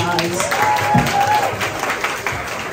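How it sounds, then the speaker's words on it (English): An audience at a film festival panel gives steady applause that stays fairly loud throughout, with a voice speaking over the clapping. "Please give them all a round of applause."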